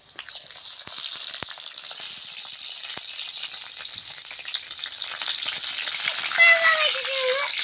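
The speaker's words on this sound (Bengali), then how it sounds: "ভেজে নিচ্ছি।" Spinach puris fry in hot oil in a wok, giving a continuous loud sizzle with small crackles and bubbling throughout. A faint tone appears near the end.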